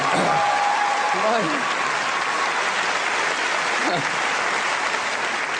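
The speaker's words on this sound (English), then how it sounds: "a round of applause for your opening act" Steady applause from a comedy festival gala audience greeting the opening act, a dense even wash of clapping lasting throughout, with a brief voice or whistle sound rising above it.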